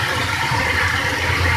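Water from a bidet sprayer filling a home bathtub, a loud, steady hissing rush that runs without a break and has no voices over it.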